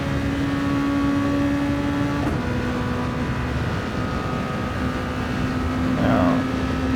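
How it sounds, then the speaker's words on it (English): Race car engine at Road Atlanta revving hard, with a sharp gear change partway through as it climbs uphill, then the steady tone building again; loud and close throughout, no talk. "rev it out a little bit in 4th to 5th to get up the hill"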